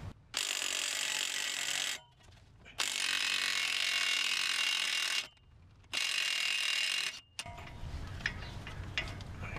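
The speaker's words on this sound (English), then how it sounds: "So I need a 32mm socket for this axle nut. I'm going to use an electric impact" Electric impact wrench with a 32mm socket spinning off an axle nut on a 2011-2015 Chevy Volt wheel hub: three loud, sustained whirring-hammering bursts separated by short pauses, then quieter mechanical handling noise.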